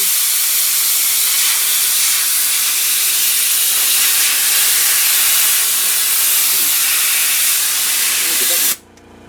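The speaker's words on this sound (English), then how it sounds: "Let me show you what happens when I plug it into the Prevost." Compressed air hisses loudly and continuously from an M-style plug fitted into a Prevost S1 coupler, a steady broadband rush that cuts off abruptly near the end.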